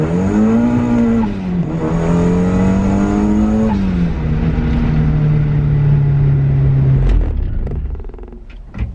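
A turbocharged Mazda Miata accelerates hard in second gear, engine note climbing steadily in pitch, dipping at a brief shift near mid-run, then rising again before a sudden cut; loud and close throughout, with no talking.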